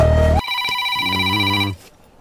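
A mobile phone call rings out as a tonal electronic ringtone, loud and close, a sustained tone switching to a brief melodic ring pattern that stops abruptly, with no talking over it.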